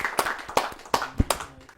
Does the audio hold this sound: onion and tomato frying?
no